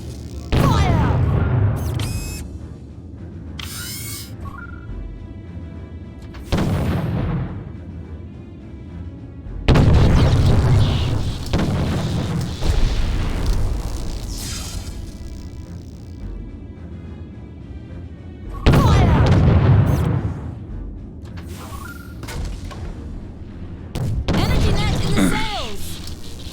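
Ship cannons fire in the space-sailing video game Treasure Planet: Battle at Procyon, sending heavy booming volleys at intervals over a continuous rumble, with voices talking throughout.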